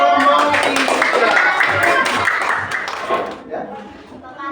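A classroom group claps for group 3 in a dense burst of many hands, loud and continuous for several seconds before tapering off, with voices mixed in under the applause.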